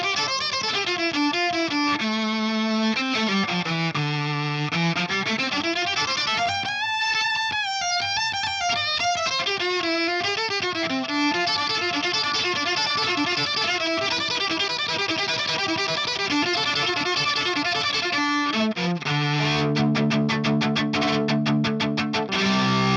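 An electric violin played through the drive effect of a Line 6 Helix gives a gritty, overdriven tone: sliding and sustained notes, melodic runs and a busier passage near the end, loud and continuous with no talk.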